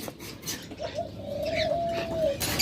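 A farm pigeon gives a single drawn-out coo close by, rising and holding for over a second over soft background rustle.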